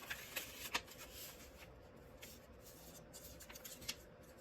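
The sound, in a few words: folding origami paper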